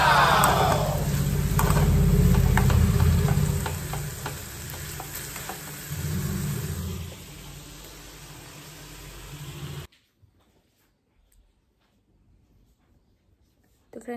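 Sprouts sautéing in a pan give a steady loud sizzle with scraping stirs for about ten seconds, then cut to near silence.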